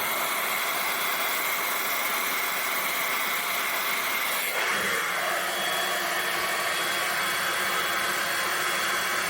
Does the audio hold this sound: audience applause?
no